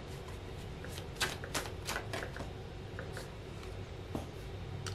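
Tarot cards are shuffled in a quiet, close series of soft riffling and flicking bursts against a faint background hiss, with no talking.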